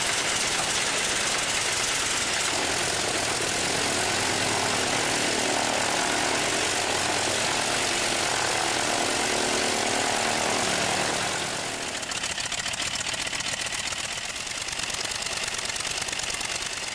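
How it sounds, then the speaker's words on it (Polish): A small propeller plane's engine starts and roars steadily nearby, a dense buzzing drone that dips and shifts in tone partway through before running on. "jesteśmy przed pierwszym uruchomieniem silnika"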